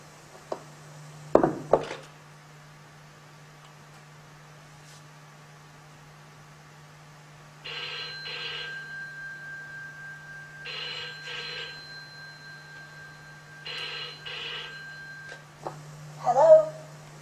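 A telephone rings in repeated electronic bursts, each lasting about a second with pauses between them. The rings are clear against a quiet background with a steady low hum, and brief thumps and clicks come before and after.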